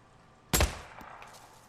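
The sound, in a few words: gunshots with a silencer in the video game Days Gone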